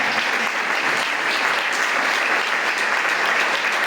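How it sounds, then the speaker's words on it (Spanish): A church congregation applauds, producing a loud, thick and continuous roar of clapping from many people that stays even for the whole stretch, with no voices standing out. "Usted puede dar ese aplauso fuerte a Dios, ¿verdad?"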